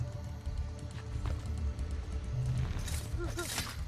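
Horses gallop in the video game Assassin's Creed: Brotherhood, a busy patter of hooves with clashing game effects and a whinny-like squeal near the end, all under a steady bed of noise.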